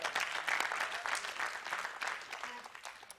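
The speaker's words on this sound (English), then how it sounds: "somebody give me a clap here." A church congregation claps together, a lively burst of many hands that swells early and then gradually thins and fades out.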